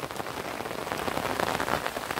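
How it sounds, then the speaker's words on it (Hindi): Heavy rain pours steadily onto surfaces during a days-long downpour, a dense, loud, unbroken hiss with no voices. "बारिश तो रुकने का नाम नहीं ले रही है"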